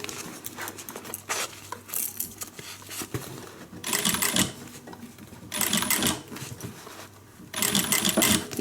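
A sewing machine stitches a guitar-shaped handbag in short bursts of fast rattling, each run of stitching louder and followed by quieter handling pauses, close up with no talk.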